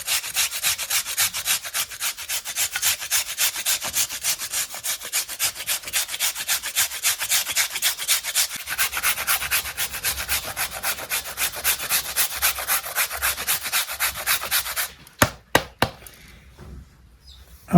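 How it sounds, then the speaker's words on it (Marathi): Jaggery is rubbed briskly against a hand grater in quick, even rasping strokes, loud and close, continuing for about fifteen seconds before a few scattered knocks and handling sounds. "आपल्याला एवढ्या पद्धतीने गुळ खिसून घ्यायचा आहे."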